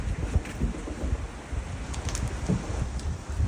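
A creek flows as a close, steady watery rush with low gurgling and splashes, and no talk over it.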